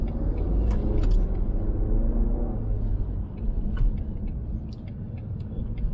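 A Ford Mustang V8 drives with traction control switched off, a loud, steady, deep engine rumble heard from close by that swells slightly and then settles, with no talking.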